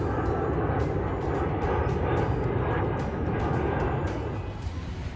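An airplane passing low near San Diego airport, a loud continuous roaring engine rumble that stays strong throughout and eases off slightly toward the end, outdoors by the waterfront.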